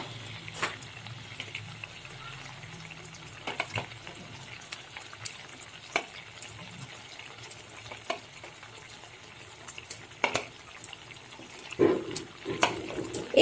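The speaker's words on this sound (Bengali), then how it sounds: "এখন এর মধ্যে দিয়ে দিচ্ছি ভেজে রাখা বেগুনগুলো" Fried eggplant pieces dropped into a pot of simmering Bengali begun bahar gravy on high heat, giving a low steady bubbling and sizzle with soft clinks and splashes that grow louder near the end, no talking.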